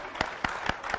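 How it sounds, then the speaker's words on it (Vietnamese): An audience on a Vietnamese television show claps, with four sharp, evenly spaced claps standing out over a low wash of crowd noise. "cho em tràng pháo tay để lấy tự tin nha"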